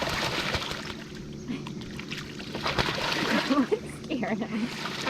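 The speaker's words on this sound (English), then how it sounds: "They're diving under the water now." Ducks dive and splash in homestead pond water, with soft irregular splashes and sloshing under nearby voices talking.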